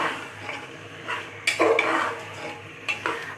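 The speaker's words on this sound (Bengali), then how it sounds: "এবার এটা খুব ভালোভাবে আমরা মশলার সাথে মিশিয়ে কষিয়ে নিব।" About 1.2 kg of beef being stirred and mixed with spices in a pot, with a few scraping, clinking spoon strokes against the metal and a faint background sizzle, close up with no talking.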